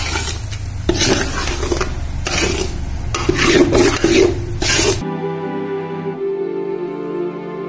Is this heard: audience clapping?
no